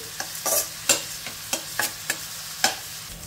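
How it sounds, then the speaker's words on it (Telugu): Onion pieces and curry leaves fry in a pan while being stirred, a steady soft sizzle broken by about eight crisp scraping strokes at an uneven rhythm, with no voices. "ఇప్పుడు ఈ ఉల్లిపాయ ముక్కల్ని ఒక 2 నిమిషాలు ఇలా కలుపుకుంటూ ఫ్రై చేసేసుకోవాలి।"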